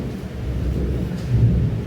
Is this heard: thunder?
yes